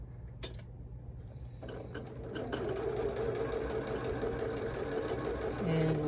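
A domestic sewing machine runs steadily, stitching a pillowcase seam with a continuous mechanical whir and needle clatter, close and fairly loud; a few clicks come before the motor starts.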